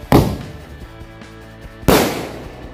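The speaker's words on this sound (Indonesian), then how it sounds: "Lanjut kita coba mercon keras sakti lur. Ini bisa meledos di atas dan di bawah." A mercon keras sakti firecracker set off for Chinese New Year bursts twice, two sharp loud bangs about two seconds apart, each trailing into a brief ringing echo.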